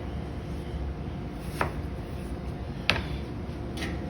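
A kitchen knife cutting down through an onion on a board: two sharp, isolated knocks about a second apart, close but modest over a quiet room hiss.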